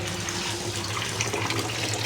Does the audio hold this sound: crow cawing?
no